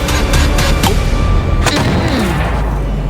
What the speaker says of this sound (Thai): ก็ระเบิดไปเลยดิ